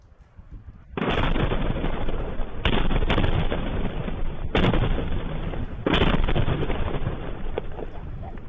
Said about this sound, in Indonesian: Serangkaian ledakan terdengar di kawasan Al-Deir, Provinsi Basra